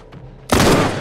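A turret opens fire in The Last of Us video game, a sudden loud burst of rapid gunfire erupting after a quiet moment and sustaining to the end.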